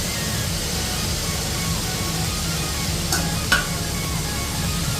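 Chopped tomatoes are stirred into a hot frying pan, giving a continuous sizzle with soft scraping and a brief utensil clink partway through.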